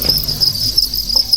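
Crickets raised on a cricket farm in Da Lat chirp in a continuous, shrill, rapid trill, close and loud, with faint low background noise beneath.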